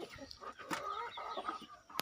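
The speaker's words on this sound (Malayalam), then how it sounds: "ഇത് രണ്ടെണ്ണം കാണിച്ചത് ഗ്രാമശ്രീ പൂവനാണ്" A Gramasree rooster clucks in a short run of close, broken calls, with a couple of sharper bursts partway through and near the end.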